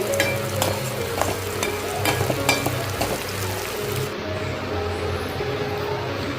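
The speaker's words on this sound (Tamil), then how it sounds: "நல்லா வதக்கிக்கோங்க" Steady sizzling of onions sautéing in a pan for beetroot chutney, with occasional stirring scrapes, continuous and close.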